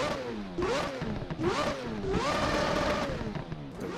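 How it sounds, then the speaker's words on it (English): A four-rotor rotary engine in a Mazda RX-7, in a racing video game, revs hard in three or four sweeping bursts, rising and falling sharply with a raspy, buzzing edge. "So we're going to give it a rev, do the audio test"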